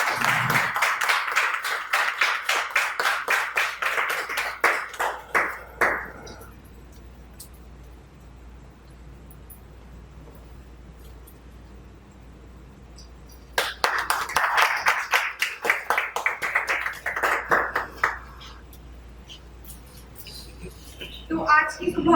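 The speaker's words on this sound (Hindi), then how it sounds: "जोरदार तालियां हो जाए।" Two bursts of hearty audience clapping at a gathering honouring a Chhattisgarhi poet and lyricist, the first lasting several seconds before fading into a quiet hall, then a second round breaking out and dying away, with another clap starting at the end.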